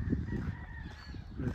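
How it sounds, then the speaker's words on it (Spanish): Roosters crow on a ranch with alfalfa fields, a faint drawn-out call heard at a distance over low wind rumble. "se escuchan los gallos."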